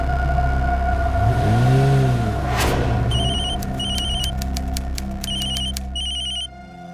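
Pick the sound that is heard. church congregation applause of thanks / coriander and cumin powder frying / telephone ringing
telephone ringing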